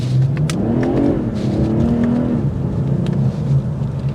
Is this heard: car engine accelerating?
yes